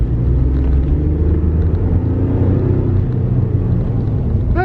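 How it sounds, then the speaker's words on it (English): A lifted Ford F150 XLT pickup truck driving, its engine and road noise forming a steady, loud low rumble throughout with no talk. "this is my first time actually driving a lifted truck"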